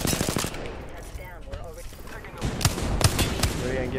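Gunfire in the battle royale game Apex Legends: rapid automatic weapon bursts and sharp single shots, loud and close, crackling repeatedly over a dense background of game noise and players' voices talking.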